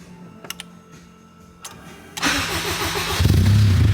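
Car engine started by push button with the clutch pressed: a few clicks, then the starter cranks and the engine catches, settling into a loud, close, steady idle.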